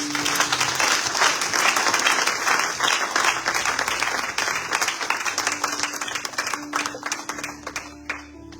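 A church congregation applauds the Lord during a worship service, dense sustained clapping from many hands filling the room, loud and continuous, thinning slightly toward the end, with faint voices under it.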